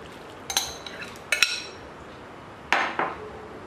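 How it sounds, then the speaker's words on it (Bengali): Marinated chicken being turned into a cooking pot gives a few clinks and clatters of utensils against metal, close and moderately loud, in short separated bursts with quiet gaps between. "এবার আমরা একটা হাঁড়িতে চিকেনটা ঢেলে দেব।"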